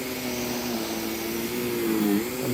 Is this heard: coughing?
no